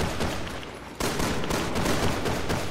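Rapid gunfire rattles out in Resident Evil 6, a dense, loud burst of shots packed tightly together, with a brief dip before the firing resumes just as hard.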